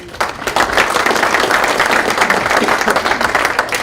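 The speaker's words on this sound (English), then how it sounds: "Another round of applause for Potomac Edison." An audience at a chamber of commerce breakfast meeting breaks into sustained, dense clapping that stays loud and even throughout.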